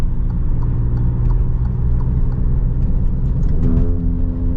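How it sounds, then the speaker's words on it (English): An Alfa Romeo Stelvio Quadrifoglio SUV's V6 engine drones loudly and continuously from inside the cabin, its deep harmonic growl steady and then rising in pitch near the end. "this is the best sounding V6 on the planet"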